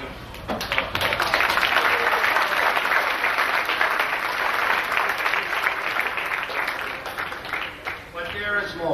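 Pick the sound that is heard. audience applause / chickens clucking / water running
audience applause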